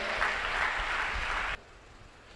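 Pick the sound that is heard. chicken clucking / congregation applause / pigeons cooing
congregation applause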